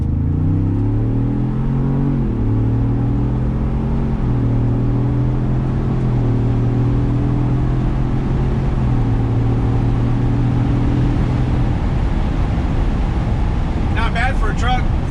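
A 2021 Ford Bronco WildTrak Sasquatch truck accelerates hard from inside the cab, engine note climbing through several rising steps before easing off, a loud continuous drone heard up close.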